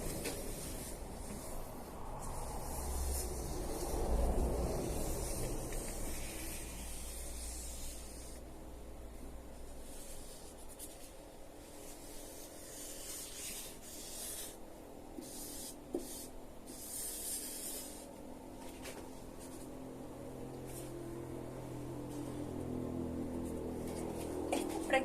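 A pen scratches and rubs across paper while sketching a brain diagram, soft continuous strokes with short pauses, close and quiet, no speech over it.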